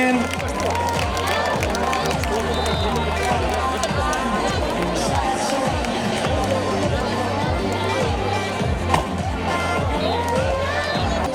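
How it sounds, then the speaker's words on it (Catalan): Crowd noise at the close of a women's beach handball match between the Catalan national team and Beach Stars, a dense steady roar of cheering and babble with rhythmic thumping underneath, sustained and loud throughout. "un fort aplaudiment."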